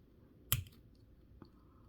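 A plastic part for a Kirby entry grade model kit is snipped off its runner: one sharp close click with a short rattle after it, then a fainter second tick a moment later, in a quiet room.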